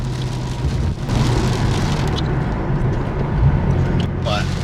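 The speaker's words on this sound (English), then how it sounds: "Kind of sucks that it's raining" Rain falling steadily on a Nissan Skyline R33 GTR during a drive, a constant broadband patter over low engine and road rumble from inside the car, with a voice talking throughout.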